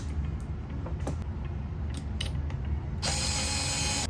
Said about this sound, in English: I love how this electric screwdriver can get into like the tiniest places.